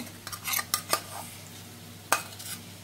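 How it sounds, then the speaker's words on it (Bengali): Spine gourd stuffing is scraped from a pan onto a plate with a metal utensil, making a few scattered scrapes and clinks against a quiet background. "আমরা এটা আবার ঢেলে নেব, একটা প্লেটে ঢেলে নিচ্ছি"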